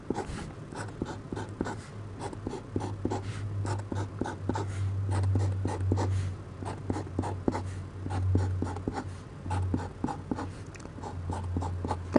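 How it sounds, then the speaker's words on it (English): A pen or pencil drawing a nighttime moon picture on paper, with close, busy scratching and tapping strokes continuing throughout over a low steady hum. "Just do a little nighttime moon drawing today."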